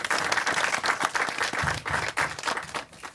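Audience at a film premiere breaks into loud, sustained applause, dense overlapping claps with a few sharper individual hits, continuing steadily without a break.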